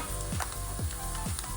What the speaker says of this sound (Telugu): ఇదంతా చిట్లినాక ఇప్పుడు శనగిత్తులు వేస్తాము. బాగా ఫ్రై చేయాలా.